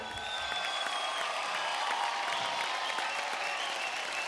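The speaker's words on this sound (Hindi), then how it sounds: "ओहो, जोरदार तालियां हो जाए यार।" A television audience applauds after a drama performance, a sustained wash of clapping with faint cheering mixed in, moderately distant and even in level.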